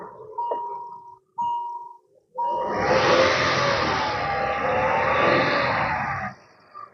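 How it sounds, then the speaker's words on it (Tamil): A Hyundai Verna car engine starts and revs hard, a loud, steady roar lasting several seconds before it cuts back to a low idle, preceded by a few short tonal sounds. "ஸ்டார்ட் பண்ணுங்க ஸ்டார்ட் பண்ணுங்க அப்படியே ரைஸ் பண்ணுங்க"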